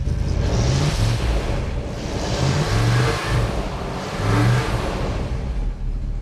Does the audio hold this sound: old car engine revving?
yes